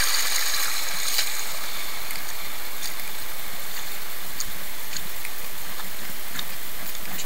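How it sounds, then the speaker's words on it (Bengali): Water rushes steadily over rocks in a forest stream with a waterfall along a rocky jungle trek in Bangladesh, a loud, continuous wash with faint clacks and knocks scattered through it. "ঝর্ণা"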